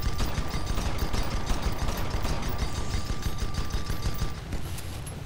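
Rapid, dense automatic gunfire from airship guns in the online game Guns of Icarus Online, a loud continuous rattle of overlapping shots with a steady mechanical whine running beneath.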